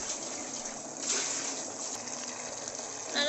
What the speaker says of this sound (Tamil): நல்லா கொஞ்சம் கொதியட்டும்.